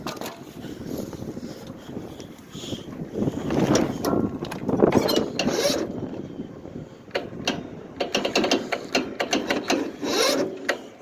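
A Yard Machines lawn tractor's engine cranks over on its starter after the bolts were replaced, a steady mechanical churning with rising and falling bursts, fairly loud and close, with no voices.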